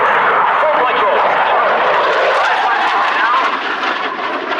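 An Italian Air Force Eurofighter Typhoon jet roars loudly and steadily overhead during aerobatic rolls, a broad, sustained engine rush that holds strong throughout.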